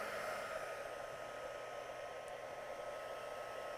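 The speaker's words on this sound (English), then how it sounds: "I'm going to turn my heat tool on the low setting" A crafting heat tool blowing on its low setting, a steady close whooshing hum with no other sound.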